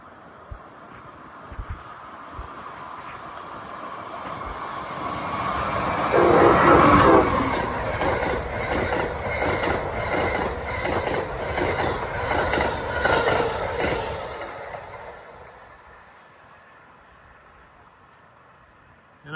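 Amtrak train 161 bound for Washington passes through Princeton Junction, swelling from a distant rumble to a loud close roar with rhythmic clickety-clack of wheels and a brief horn note, then fading away.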